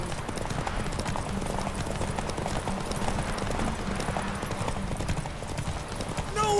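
Horses galloping in a race in The Witcher 3, a steady, rapid clip-clop of hooves running throughout, loud and close, with game noise around it.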